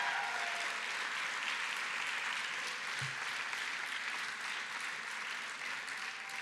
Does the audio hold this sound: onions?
no